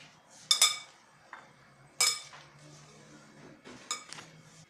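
Orange and pear pieces are tossed together in a salad bowl with utensils, giving three short bursts of clinking and scraping with quiet pauses between them.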